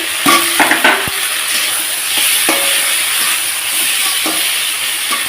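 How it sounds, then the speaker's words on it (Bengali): Spices and potatoes hit a hot pan with a loud, steady sizzle, punctuated by clanks and stirring scrapes near the start and a few later clinks. "এই যে মশলা আলু সব একসঙ্গে ছেড়ে দিচ্ছি"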